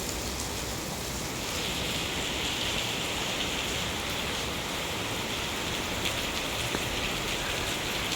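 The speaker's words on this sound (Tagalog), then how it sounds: "Umuulan ang Singapore ngayon." Heavy rain falls steadily over Singapore, a dense continuous hiss of drops on surfaces close by, unchanging throughout with no voices.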